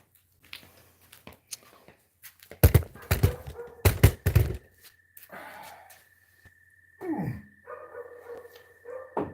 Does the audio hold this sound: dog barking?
yes